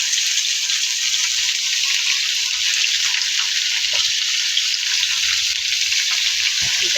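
Potatoes sizzle in hot oil, a steady bright hiss of frying that runs unbroken from start to finish, close and fairly loud with no talking.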